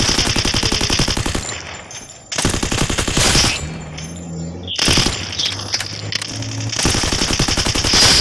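Loud, close gunfire crackles in long rapid automatic bursts with brief gaps between them, plus a low hum underneath in the middle stretch.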